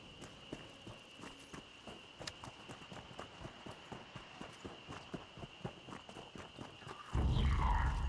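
Hooves clop in a steady walking rhythm in a video game, soft and fairly quiet, before a sudden loud burst of noise cuts in near the end.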